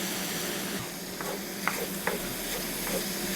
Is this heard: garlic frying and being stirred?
yes